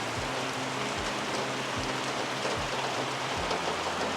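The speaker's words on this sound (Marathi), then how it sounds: "हे बघा पाऊस बघा" Steady rain falls outdoors in a village market town, a dense continuous wash of drops with faint low thumps underneath.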